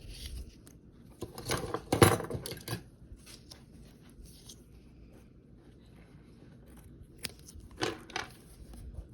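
Scissors snipping paper for a papercraft junk journal, a few short crisp cuts clustered near the start and again near the end, close and fairly quiet against a still room.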